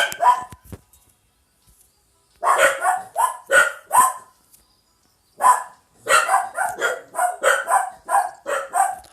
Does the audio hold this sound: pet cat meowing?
no